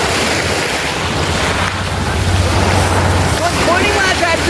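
Ocean waves wash onto Lebron Beach in Barangay Punta Pilar, Surigao City, a steady broad roar of surf with wind buffeting the microphone throughout, loud and continuous with no voices.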